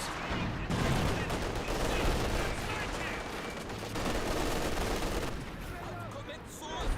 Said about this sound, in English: we got some airburst rounds there hitting those pack guns